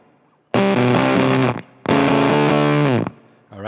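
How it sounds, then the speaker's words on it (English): Two loud, sustained bursts of electric guitar through a fuzz pedal, heavily distorted with a harsh, sputtering, Velcro-ripping fuzz tone, each ending abruptly with a gated, tearing cutoff. "that's got that really cool Velcro ripping fuzz kind of sound"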